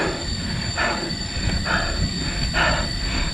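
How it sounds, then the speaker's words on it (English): Jungle ambience on a mountain pass: a steady, shrill insect-like drone hangs over constant wind and rumble, with a few brief swells in the mid range. "Can you hear that sound? Nice sound of the jungle."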